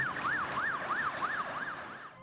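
An ambulance siren wails in a smooth rising-and-falling pattern, several cycles, moderately distant, fading out at the end.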